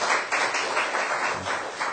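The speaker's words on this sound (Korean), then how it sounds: "박수를 한번 격려해 주세요." A church congregation at Eden Church applauds, producing a dense, continuous patter of many hands clapping together with slight swells, and no voices rising above it.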